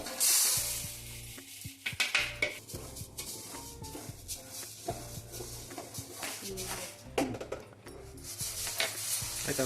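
Spices for homemade sambar powder are dry-roasted in a pan, with irregular stirring scrapes and metal clatter over a low, soft sizzle at moderate volume.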